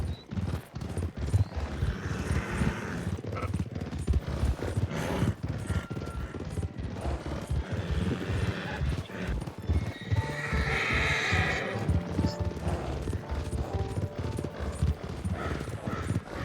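Horse hooves clip-clop steadily beneath repeated whinnies in Red Dead Redemption 2, a continuous galloping rhythm layered with outdoor ambience and loud, close neighing bursts.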